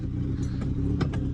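Modified Honda Civic engine running: a steady, deep exhaust drone with low rumble throughout, with a few brief revving blips standing out over the idle at close range.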